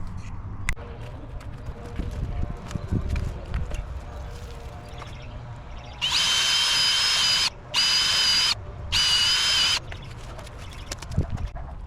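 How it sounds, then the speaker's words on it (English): A power drill bores holes in wooden boards of a trailer being repaired, running in three loud sustained bursts with short pauses between them, after a stretch of quieter handling noise. "get my drill and start drilling out holes"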